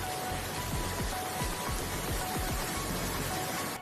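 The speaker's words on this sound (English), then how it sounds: "Sichuan and Gansu provinces also experienced heavy rains that led to flooding" Heavy rain pours steadily during flooding in Sichuan and Gansu, China, a dense continuous hiss of downpour with scattered low thuds, no voices.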